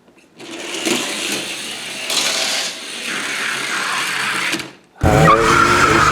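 An Opel Kadett Coupe racing car in a video game passes on the outside lane, its engine roaring steadily for about five seconds with rising and falling pitch, then cutting to a harsher, louder burst of tire and engine noise.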